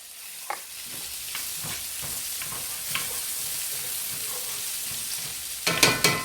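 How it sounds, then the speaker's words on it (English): Garlic sizzles and fries in a pan with a steady crackling hiss, punctuated by soft stirring clinks and a louder burst of sizzle near the end. "Now we're going in with the garlic"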